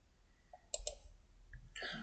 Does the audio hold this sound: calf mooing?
no